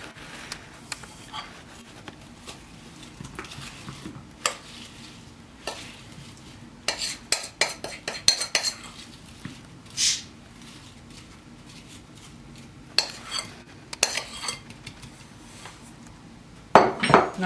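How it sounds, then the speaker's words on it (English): Apple slices get set into a pie crust in a dish, with scattered soft knocks, clinks and rustles coming in irregular bursts between quiet gaps, close by, with one sharper clatter near the end. "Now we're going to put the apples in."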